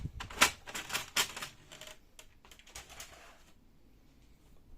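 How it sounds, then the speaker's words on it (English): The paper tray of an HP LaserJet M477 printer is pulled out, a quick series of sharp plastic clicks and sliding rattles close by, tapering to faint handling noise. "Take out the paper tray."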